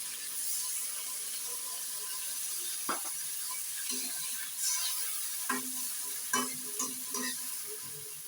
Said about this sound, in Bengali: মশলার মধ্যে ভালো করে কষিয়ে নিয়েছি